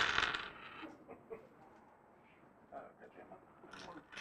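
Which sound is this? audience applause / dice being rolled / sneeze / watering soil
dice being rolled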